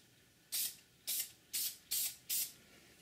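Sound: Dupli-Color filler primer spray can spraying

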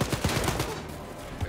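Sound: assault rifle gunfire in video game Wolfenstein: Youngblood

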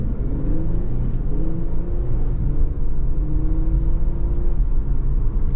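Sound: 2023 Infiniti Q50 AWD car accelerating from a stop

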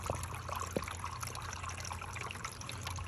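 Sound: water flowing from bottle into homemade gold cleanup sluice

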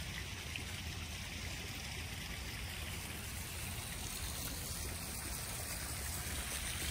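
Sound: backyard koi pond waterfall trickling

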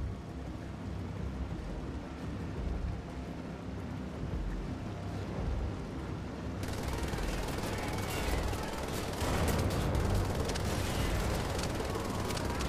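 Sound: explosion in video game Wolfenstein: The Old Blood

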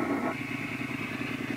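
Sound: motorcycle engine idling

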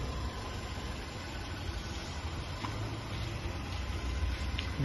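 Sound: SUV engine idling quietly

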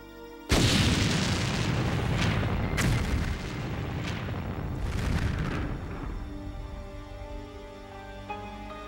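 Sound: high explosive detonation

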